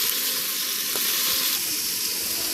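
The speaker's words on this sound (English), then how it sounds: "we're just going to cook this till the peppers and the onions are heated through" Peppers and onions for beef fajitas fry in a pot with a steady, close sizzle and a faint watery hiss, with no talking.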